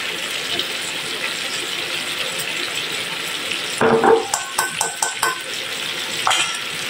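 Ampalaya and pork belly stir-frying with oyster sauce in a pan, a soft steady sizzle under the stirring, then a run of clinks and scrapes from a utensil against the pan partway through.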